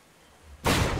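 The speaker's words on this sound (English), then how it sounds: "it is raining" A sudden loud, dense burst of thunder-like crashing rain noise in the video game Going Medieval, swelling from near silence into a heavy, broad roar that fills the last third and stays loud.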